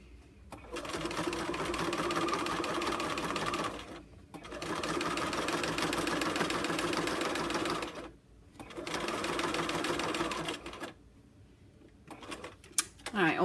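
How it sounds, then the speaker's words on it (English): A sewing machine stitches a centered zipper in steady, close bursts of rapid mechanical whirring, three long runs separated by short pauses, then a few brief taps and clicks at the end. "I'm going to put another stitching line on this side now"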